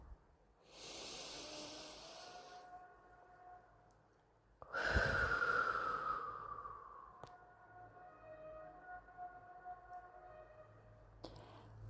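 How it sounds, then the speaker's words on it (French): Slow, deep guided breathing: two long, soft, airy inhale-and-exhale sounds, quiet and close, with a faint tonal hum in the background. "Troisième respiration."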